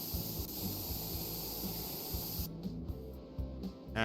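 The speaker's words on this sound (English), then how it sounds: "pick up the paint pistol again. Yep, spray it the obnoxious green colour." Paint pistol spraying green paint in the video game Junkyard Builder, a steady continuous hiss running for about two and a half seconds, then breaking into short choppy bursts before fading.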